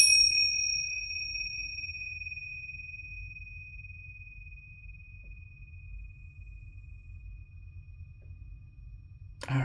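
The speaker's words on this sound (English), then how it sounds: "I love my tincture bells. They're so good for clearing energy." Tincture bells (tingsha) are struck once, a bright, clear ring that lingers and slowly fades over several seconds in a quiet room before another faint clink at the end.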